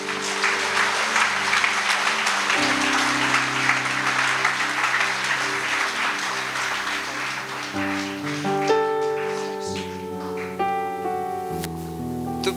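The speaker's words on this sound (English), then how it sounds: "Let us give our brothers a big round of applause." An audience claps at a musical concert, a steady wash of applause that continues while held musical tones ring underneath.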